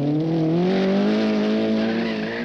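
A rally car on a gravel test at the 1968 1000 Lakes Rally in Finland skids with its front wheels locked, giving a steady, loud, droning tonal whine that slides slightly in pitch for about two and a half seconds.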